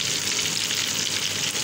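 Eggplant (brinjal) slices fry in a pan over moderate heat, giving a steady, dense sizzle that stays close and even throughout, with no talk over it.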